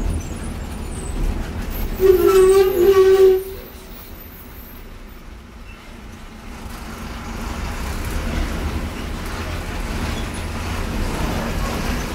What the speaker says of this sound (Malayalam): ഇത് ബൂമ്ര റെയിൽവേ സ്റ്റേഷന് പനവേൽ